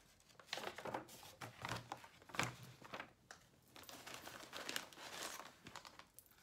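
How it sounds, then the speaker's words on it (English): A paper price sheet from a Stitch Fix clothing subscription box is pulled out and handled, giving a run of close, soft crinkling and rustling bursts with no talking. "let me get my price sheet out so we can look this over"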